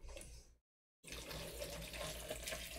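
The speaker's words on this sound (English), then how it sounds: "You see how this water flows?" Water runs from a tap in a steady hiss that cuts out for a moment, then returns and keeps flowing at a moderate level.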